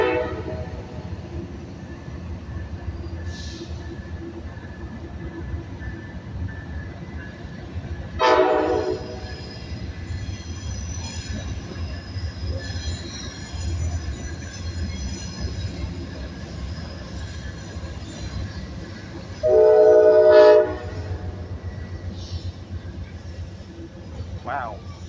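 A Union Pacific Phase 7 locomotive passing at Sacramento, California, with a steady rolling rumble and squealing wheels, plus two horn blasts, a short one and then a longer one.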